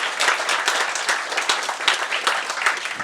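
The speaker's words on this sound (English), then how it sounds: "Let's just give Ilias another round of applause." Applause from a lecture audience after an inaugural university lecture, dense and continuous with slight surges, many hands clapping together for the whole stretch.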